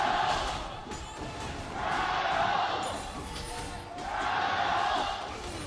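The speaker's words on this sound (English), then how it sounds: "You can hear the audience cheering it because this is a very close game." Crowd at a League of Legends esports final, the China versus Korea gold medal match at the 2018 Jakarta Asian Games, roars in swelling waves that rise and fall over a tense close game, with commentary running underneath.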